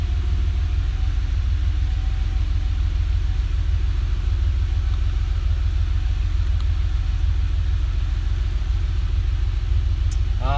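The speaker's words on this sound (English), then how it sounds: "So it fires right up. Idle's pretty smooth" A 1986 Porsche 911 Carrera Cabriolet idling smoothly and steadily, a continuous low engine rumble close by with no voices.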